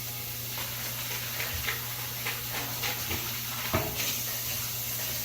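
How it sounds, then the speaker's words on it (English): A pan used for cooking eggs is rinsed under running tap water, a steady close hiss of the stream with brief splashes and clatters as the pan shifts. "and just give it a quick rinse."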